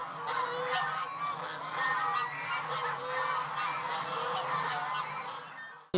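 A flock of geese imported from China and Bulgaria honks continuously and loudly on a farm in Garmiyan, Kurdistan, many overlapping calls forming a dense, clamoring chorus close by.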